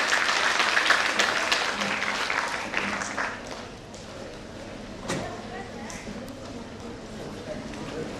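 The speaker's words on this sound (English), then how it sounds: "A big round of applause for Dr." Applause from the audience at an academic mathematics session, dense clapping loud at first then thinning and fading after about three seconds into a lighter patter with brief voices underneath.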